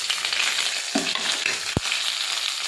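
Cumin, coriander, ginger, onion and garlic frying together in hot oil, a dense continuous sizzle close up with a brief stirring scrape and a single sharp knock of a utensil against the pan.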